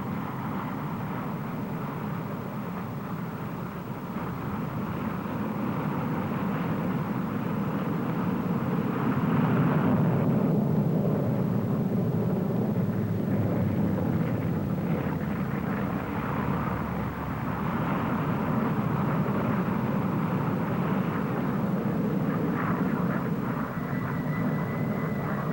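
Fixed-wing aircraft flying at the Farnborough air show, a steady, broad engine roar holding loud and continuous for the whole stretch, swelling slightly midway as the planes pass, with no talk over it.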